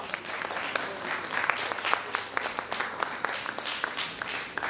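A hall audience at a National Youth Day event gives sustained, dense applause for the Navabharat Nirman Foundation, many hands clapping steadily at moderate loudness for several seconds.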